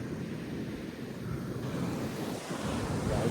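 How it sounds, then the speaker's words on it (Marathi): Big sea waves roll in at Dahanu beach, swollen after rain, making a steady, close roar of surf mixed with gusting wind noise on the microphone, with no voices. "खूपच मोठ्या लाटा येत आहेत"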